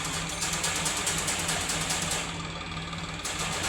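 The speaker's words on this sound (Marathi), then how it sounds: "तर गहू फिल्टर करायचं चालू झालेले आता." A wheat cleaning machine runs with a steady mechanical drone and rhythmic whirring, continuous and fairly loud, with no voices, at night.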